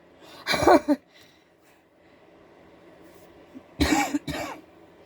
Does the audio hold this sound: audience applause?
no